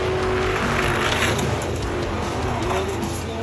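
The DeLorean monster truck races down a dirt track with a loud, continuous engine roar and a whine of tires, the noise of the crowd and arena rising under it.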